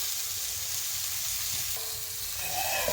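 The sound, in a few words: spices being sautéed in oil in a pan for tengra fish curry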